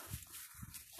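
A dog on a walk in a forest makes a few faint, soft snuffling sounds up close over about a second of quiet outdoor background.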